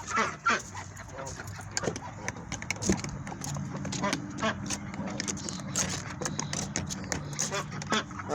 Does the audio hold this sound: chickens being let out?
yes